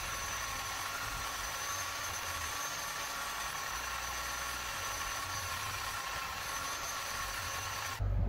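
An electric sander works over a used wooden cutting board with steady, continuous broadband whirring that holds level throughout, then shifts abruptly near the end; no one speaks.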